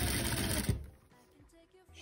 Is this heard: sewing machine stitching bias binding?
yes